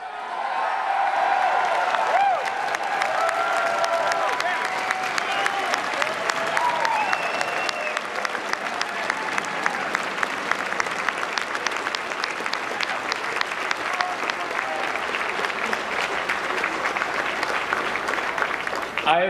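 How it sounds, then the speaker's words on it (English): Audience at a nominating convention applauds the candidates: dense, sustained clapping from a large crowd fills the whole stretch, with a voice talking over the opening seconds. "Can everyone give these candidates another round of applause?"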